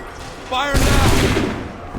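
A massed musket volley in Assassin's Creed 3 erupts as one loud, close blast after a shouted command, then rolls and crackles briefly before fading.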